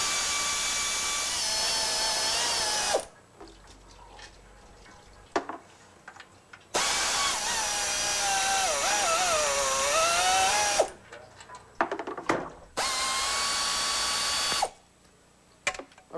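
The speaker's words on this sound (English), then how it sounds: "now removing a series of about 12 or 13 bolts and a couple of wires" A power tool whirs in long bursts as bolts are backed out of an automatic transmission pan, pitch rising and falling under load, with short ratcheting clicks and clanks in the pauses between runs.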